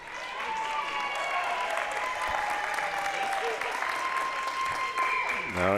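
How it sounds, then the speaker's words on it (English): Fans applauding at a JV ice hockey game in a rink, sustained crowd clapping throughout with tonal squeals and ringing noises over it, loud and continuous. "Fans applauding Henry Snow."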